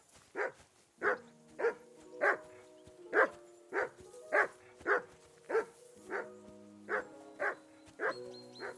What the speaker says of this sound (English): Call that dog, Henry. Who the hell can listen to that?